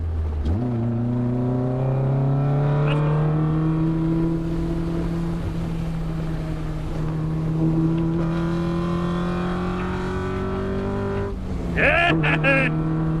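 A tuned 280+ BHP RX-5 car with a VTEC engine accelerates hard on a road, its engine note loud and steady as it rises, with a sharp rev burst near the end and voices talking inside the cabin.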